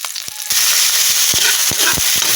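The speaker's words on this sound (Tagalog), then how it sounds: "magigisa tayo ng talbos kamuti" Sweet potato leaves (talbos kamote) hitting a hot oiled pan for sautéing, a sudden loud steady sizzle after a quieter start, with scattered crackles and pops, close and continuous.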